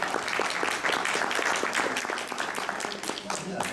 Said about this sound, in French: Je voudrais que vous vous applaudissiez.